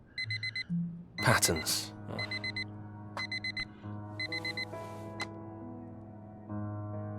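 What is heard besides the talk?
alarm clock tone in video game Fragments of Him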